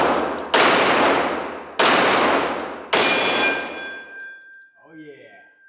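Three loud Canik TP9SFx pistol shots ring out at a shooting range about a second apart, each with a sharp crack and long ringing decay, followed by a brief faint voice.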